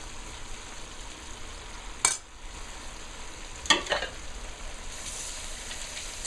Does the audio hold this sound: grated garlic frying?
yes